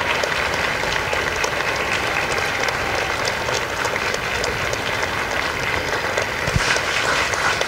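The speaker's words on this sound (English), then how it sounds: "a round of applause for their dedicated service to Corps and country." A crowd applauds at a Marine Corps recruit graduation ceremony for Bravo Company at MCRD San Diego, producing a broad, sustained wash of clapping that holds evenly throughout.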